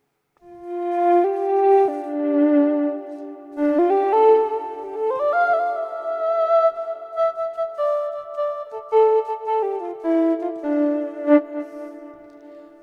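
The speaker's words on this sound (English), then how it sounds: "triangle wave coming in here, and it sounds something like this now" A triangle wave oscillator from the Reason Grain synth, run through a low pass filter, plays sustained, smooth tones that glide between notes, steady and loud with no other sounds.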